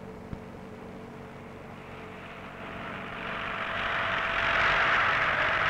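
A jet aircraft's broad roar builds steadily, growing louder and brighter as it approaches overhead, with no voices.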